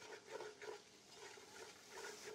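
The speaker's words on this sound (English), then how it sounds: "Give that a little stir." Bay leaves and dried thyme stirred into a cooking pot for Cajun red beans and rice, a steady close sizzle with soft scraping swishes in slow repeating strokes.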